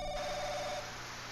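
A telephone rings once in a short electronic burst, a steady tone lasting under a second that then stops, leaving a quiet background hum.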